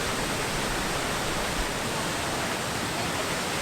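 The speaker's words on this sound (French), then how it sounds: "On arrive devant la fameuse cascade" A well-known waterfall at a scenic viewpoint in Turkey roars in a constant, even rush of falling water, loud and unbroken with no voices heard.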